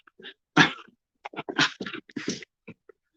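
A dog gives a short run of close snorts, huffs and grumbling vocal bursts indoors, several quick sounds in a row separated by brief silences.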